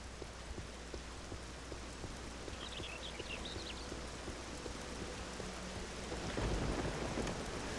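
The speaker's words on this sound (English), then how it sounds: "And now it's raining." Steady rain hisses throughout in the video game Morrowind, with a low rumble of thunder swelling near the end; no one speaks.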